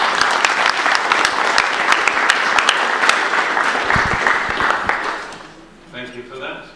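Applause at a council meeting after a tribute to the outgoing chair, a full room of steady, loud clapping lasting about five seconds before fading out as a voice briefly starts speaking.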